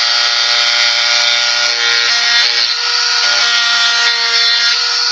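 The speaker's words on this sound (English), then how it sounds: "I'm just going to real lightly bring my Dremel in here" A Dremel rotary tool grinds lightly along wood, a loud, steady high whine with a continuous abrasive buzz that holds for the whole stretch, with no voices.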